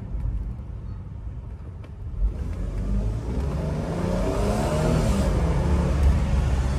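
Porsche engine revving hard while accelerating, pitch climbing steadily toward a redline between 7,000 and 8,000 rpm, loud and close inside the car and growing more intense over several seconds.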